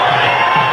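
Cricket stadium crowd in an Afghanistan vs South Africa ODI cheering a half-century, a dense, loud, sustained roar of many voices in a very brief burst.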